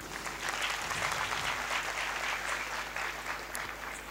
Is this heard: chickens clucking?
no